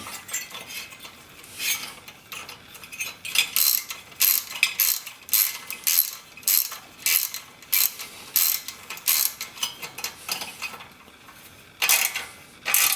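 A hand ratchet tightens bolts on the top end of a Rotax 503 engine from a Ski-Doo Formula SL snowmobile, sharp clicking bursts repeating in short rhythmic strokes at close range.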